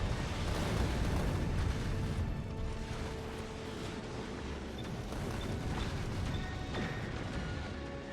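Turrets firing in Factorio: Space Age, producing a dense, continuous rumble of rapid shots and crackling impacts that holds steady and fairly quiet throughout, with no talking.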